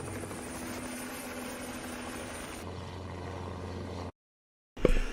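A helicopter's steady engine and rotor drone, faint and continuous. It changes tone partway through, then cuts to silence and returns with a brief louder burst.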